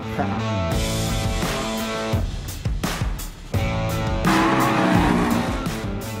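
BMW M2 Competition and Ford Mustang Bullitt on a race circuit: a loud engine note rises and falls through gear changes, with tire squeal and skidding sounds, close and continuous.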